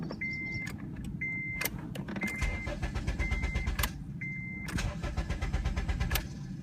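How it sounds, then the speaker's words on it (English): A car engine turning over but not starting, as an unprogrammed spare key sets off the immobilizer, with repeated close cranking bursts and electronic chimes and beeps between them. "See how it just turns over, but it doesn't actually start?"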